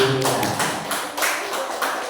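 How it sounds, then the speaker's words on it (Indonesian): An audience claps together for a speaker at a community discussion session. The clapping is a brief, fairly close patter with a few stronger beats, and a voice can be heard at the very start. "Tepuk tangan dulu untuk"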